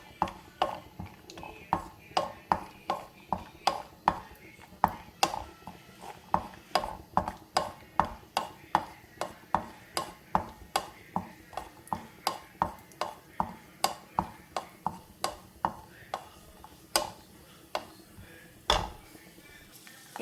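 A spatula scrapes and taps against a pan while browning food for pongal, giving a steady run of sharp metallic clicks and scrapes at a regular, brisk rhythm, close and moderately loud with no talking.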